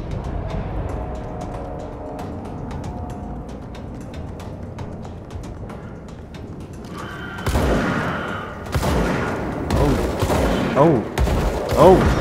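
Gunfire in the video game Control gives way to a burst of loud explosions as enemies blow up, with dense crackling blasts and booms piling up over steady game ambience in the second half.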